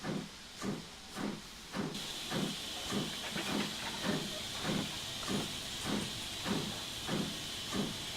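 A steam locomotive in the Train Sim 2018 railway simulator, giving out regular rhythmic chuffs of steam about every half second, with a steady hiss of escaping steam joining partway through, close and fairly loud.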